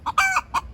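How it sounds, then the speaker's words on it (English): A Rhode Island Red hen gives a few short, close clucks in quick succession, a brief burst of bright, chattering calls with no other sound. "the one in the corner talking a lot is Rhode Island Red."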